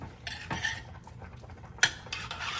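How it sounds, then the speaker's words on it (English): A spoon scrapes and clinks against a pot while turkey bolognese with tomato paste is stirred, several quiet close metallic scrapes and taps with soft pauses between. "Just stir it really nicely."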